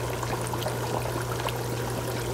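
An air-pump-driven sponge filter moving water in a backyard fish-breeding tank, a continuous trickling, bubbling stream over a steady low pump hum, close and without talking.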